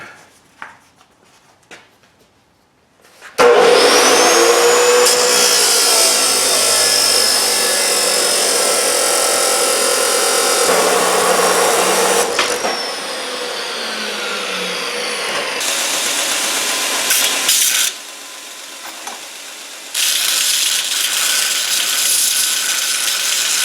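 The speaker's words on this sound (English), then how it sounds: "We're just going to chop saw that deal." A chop saw cuts through a steel bolt: the motor spins up abruptly and screams loudly through the cut for several seconds, then winds down, followed by further loud bursts of grinding noise.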